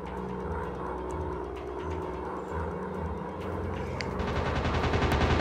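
A machine gun in a WW2 naval air combat dogfight game fires in a steady, rapid rattle over a droning aircraft engine rumble, loud and continuous throughout.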